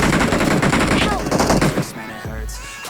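Rapid automatic gunfire in the BGMI (PUBG Mobile) game, dense bursts of shots, loud and close, easing into scattered echoing rounds toward the end.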